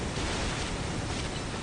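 A water move effect from Pokemon Legends Z-A: a dense, even rush of roaring water that stays loud and unchanging for under two seconds, with no voices.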